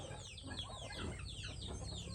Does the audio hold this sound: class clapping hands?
no